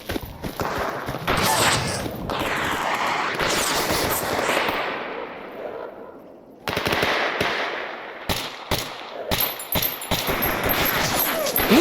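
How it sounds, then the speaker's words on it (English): Heavy automatic gunfire in the Stalker Anthology shooter during an ambush in Pripyat's center, dense overlapping bursts roaring almost nonstop, breaking off briefly near the middle before sharp cracks resume. "That is a lot of gunfire."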